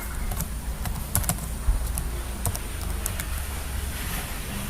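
Typing on a computer keyboard while coding a Bootstrap web page, with irregular clusters of close, crisp key clicks over a steady low background hum.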